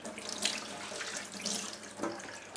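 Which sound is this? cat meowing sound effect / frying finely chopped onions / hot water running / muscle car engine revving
hot water running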